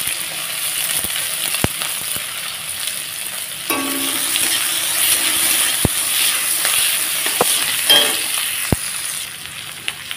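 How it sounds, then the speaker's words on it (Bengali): Sliced onions and split green chillies sizzle steadily in hot oil in a pan after small puti fish are removed, with occasional sharp scrapes and clinks of a spatula stirring them, close and continuous. "সেইভাবে নাড়াচাড়া করে পেঁয়াজটাকে বেশ সুন্দর লাল করে নেব।"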